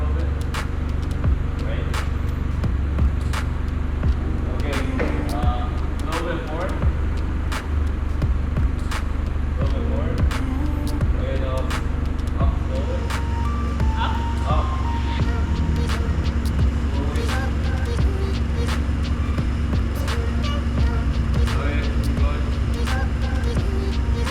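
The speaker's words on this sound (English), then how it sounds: "But here's a forklift." A forklift engine drones steadily and loudly in a fabrication shop while it lifts an off-road vehicle, with a low motor rumble, scattered clanks and beeps, and voices in the background.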